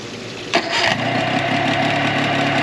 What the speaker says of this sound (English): Motor starts right up every time.